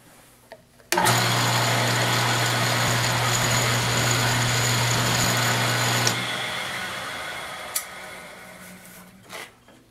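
A CNC machine drilling a hole with a number 27 drill bit, a loud steady whir and hum that starts abruptly, holds for about five seconds, then spins down, with a few faint clicks after.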